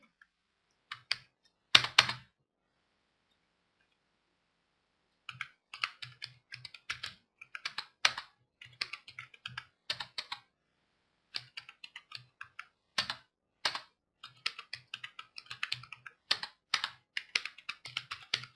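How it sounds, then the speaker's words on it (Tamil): Menu link names being typed on a computer keyboard for a Photoshop menu design, in short bursts of quick clicky keystrokes after a brief pause, close and clear with no talking. "அந்த நேமை வந்து இப்போ நாங்கள் வந்து டைப் பண்ணுவோம்"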